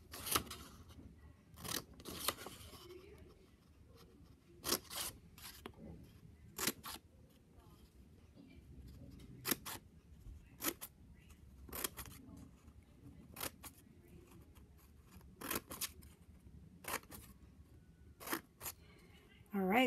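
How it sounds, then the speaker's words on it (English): Scissors cutting through a paper flipbook up to the next tab, a series of crisp separate snips spaced every second or two, quiet and close, with soft paper rustling between. "we are just going to cut up to the next tab"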